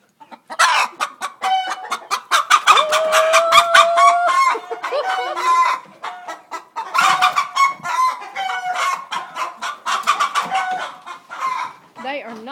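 Nesting hens in a coop cluck and squawk loudly and continuously close by as their eggs are gathered, with agitated rising calls and a brief voice underneath.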